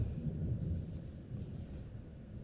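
Deep, continuous low rumble of thunder rolling through a thunderstorm, steady and moderately loud with slow swells and no distinct cracks, heard alone without voices.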